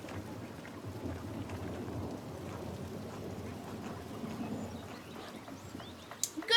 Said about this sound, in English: And Andreas, stay out of the rain.